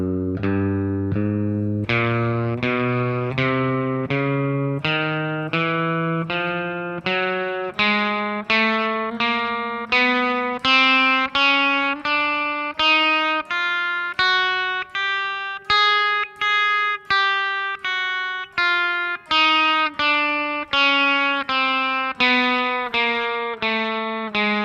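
An electric guitar with distortion plays a slow stepwise exercise of four notes on each string, moving from the thickest string to the thinnest. Each note is picked evenly and sustained, rising steadily in pitch, with no voice.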